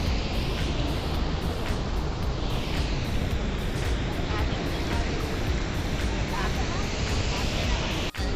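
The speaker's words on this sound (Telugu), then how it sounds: "ఎంత వాటర్ ఫ్లోయింగ్ చూడండి" Water flowing at a riverside spot in Karimnagar, a loud, continuous broadband rush close to the microphone, steady throughout with slight wind buffeting.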